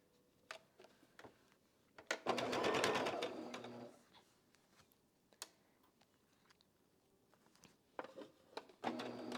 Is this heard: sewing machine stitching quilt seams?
yes